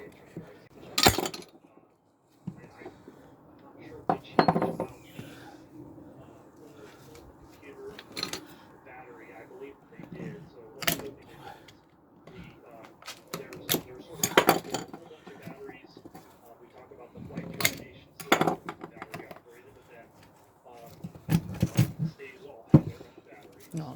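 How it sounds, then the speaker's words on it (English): An old rubber boot being cut off a Rover 45 driveshaft, heard as a run of sharp, irregular cutting and scraping knocks and clinks close by, with quieter handling noise in between. "we're now going to cut the boot off"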